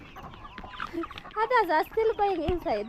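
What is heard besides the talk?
chickens clucking in a free-range flock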